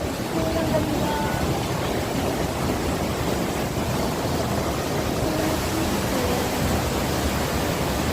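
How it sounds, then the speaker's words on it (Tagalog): A strong current of water rushes over Ambon Ambon Falls in Pangil, Laguna, making a loud, steady broadband roar that fills the whole stretch without pause. "Saka malakas yung agos niya."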